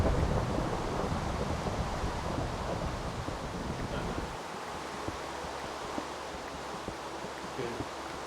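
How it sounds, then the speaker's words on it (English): Steady rain hiss with a low rumble of thunder from Minecraft weather, fairly quiet; the low rumble drops away about halfway through, leaving softer rainfall. "I low-key do like the old rain sound right now"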